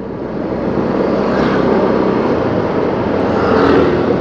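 Several motorbikes roar past on a road near Querim beach in Goa, a loud continuous engine drone swelling and fading over a few seconds, no talk.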